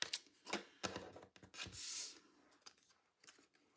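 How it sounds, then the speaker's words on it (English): Scissors snip out a paper vase shape for a handmade card in fussy cutting, a quiet, close series of irregular crisp cuts with faint paper rustling between them. "We are going to use a pair of scissors here, and we are just going to cut out this vase"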